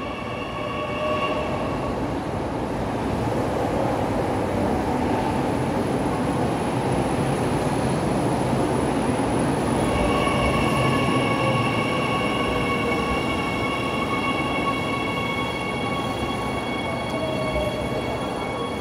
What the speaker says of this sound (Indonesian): Ini datang lagi keretanya.